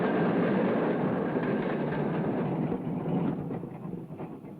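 A Melbourne tram rolls along its rails with a loud, continuous rumble and rattle that slowly fades as it moves away.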